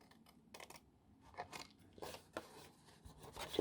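Scissors snip through card for a gift card box, a few quiet, uneven cuts with crunchy paper rustling between them, close up and without talk.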